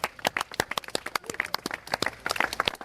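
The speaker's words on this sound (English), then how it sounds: "Your applause, please." Press-conference audience clapping after a delivery drone lands at a Mercedes-Benz vans demonstration; a fairly faint, scattered patter of hand claps from a modest crowd, irregular and close together, with no talk over it.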